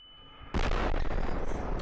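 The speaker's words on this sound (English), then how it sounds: "Demonic explosion sounds." A loud explosion in a Source engine first-person shooter game bursts in abruptly after half a second of near silence and then roars on as a dense, sustained rumble to the end.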